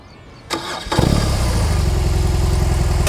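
A BMW R 18 motorcycle with an 1800cc boxer engine cranks briefly, then fires up and settles into a loud, deep, throbbing idle close by.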